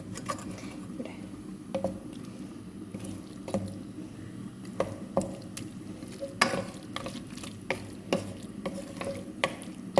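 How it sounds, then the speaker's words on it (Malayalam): Paste sautéed in coconut oil for a beef and tapioca dish: a soft low sizzle with repeated scraping and stirring clicks of a spoon against the pan, close and fairly quiet, no talking. "വഴറ്റി കൊണ്ടിരിക്കുകയാണ് വെളിച്ചെണ്ണയിൽ പേസ്റ്റ് വഴറ്റുമ്പോൾ ചെറുതായിട്ടൊന്ന് അടിപിടിക്കും"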